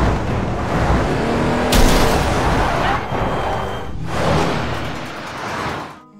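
Cars in a Korean film chase scene, engines roaring and surging with whooshing pass-bys and two sharp, loud bursts, dense and continuous with no talk.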